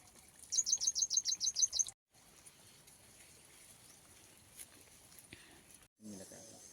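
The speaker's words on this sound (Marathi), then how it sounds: "बघा चिमणी खायला आली." A sparrow eating leftover food gives a rapid run of about a dozen sharp, high chirps close by, then falls quiet before a voice begins at the end.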